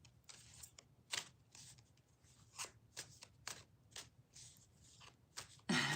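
A tarot card deck is shuffled in quiet, close bursts of papery riffling and soft slaps, separated by brief pauses, ending in a louder ruffle.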